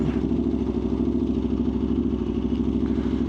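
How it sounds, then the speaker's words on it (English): A small 400 motorcycle engine runs nearby in traffic, heard as a steady, loud mid-pitched drone with a constant throb and no change in pace over the few seconds. "Oh, there's another bike right there. There's like a little 400."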